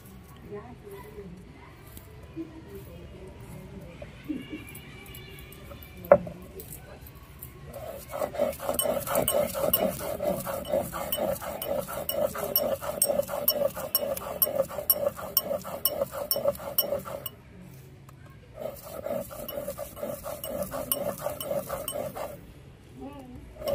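Prawns are ground into a fine paste with steady, rhythmic scraping strokes that run in two long stretches separated by a short pause, while a person talks over the grinding.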